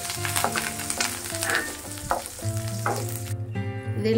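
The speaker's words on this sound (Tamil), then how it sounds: "இது எல்லாத்தையும் சேர்த்து நல்லா வதக்கி" Garlic, dried red chillies and curry leaves fry in hot oil for chickpea rasam, giving a steady close crackling sizzle with occasional pops and stirring scrapes.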